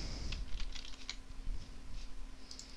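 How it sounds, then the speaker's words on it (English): Computer keyboard keys clatter quietly in quick irregular clusters, faint close taps over a low steady hum, with no talking. "we're gonna click Ctrl J on our keyboard to duplicate the layer"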